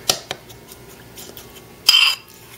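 A utensil clinks and taps against a bowl while olive oil and eggs are mixed. A few light strikes are followed by one louder scraping clatter, all close up and with no talking.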